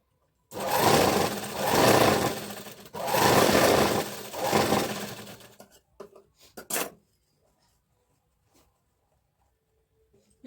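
Sewing machine stitching a blouse runs in several loud bursts of steady whirring over the first six seconds, then stops with a few short clicks and near silence.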